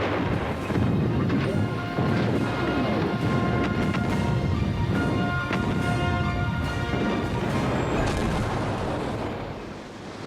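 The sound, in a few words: naval gunfire broadsides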